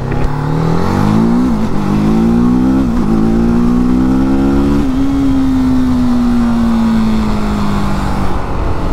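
A TVS Apache RTR 310 motorcycle accelerates hard through several gears, its engine climbing in pitch with short dips at each shift, then holding a steady high drone, loud and close.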